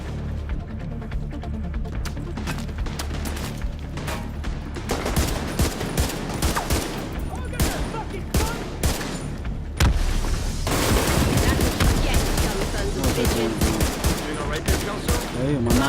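Sustained automatic gunfire and explosions in The Division 2 video game, loud, dense bursts of rapid shots and booms, thickening in the second half, with some voice mixed in.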